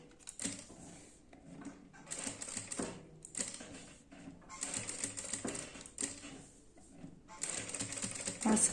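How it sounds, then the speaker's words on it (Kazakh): A sewing machine runs in short stitching bursts along the edge of a fabric ornament, using straight and zigzag stitches, fairly quiet and close, with pauses between runs and someone speaking softly at times. "Асықпай тігіп шықсаңыздар."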